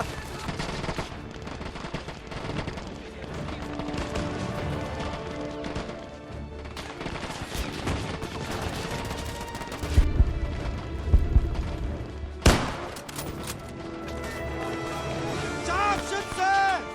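Battle gunfire in ARMA 3 set in a 1945 war scene, with bursts of shots over dense music and clatter, sharp loud cracks near the middle, and a voice talking through much of it.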